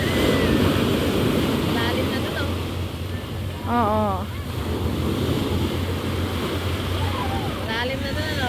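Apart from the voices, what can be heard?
sea waves around a boat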